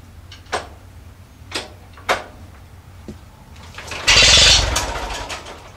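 A Farmall H tractor is hand-cranked to start, several separate clunking turns spaced about a second apart, then a louder burst of engine noise that sputters briefly before fading.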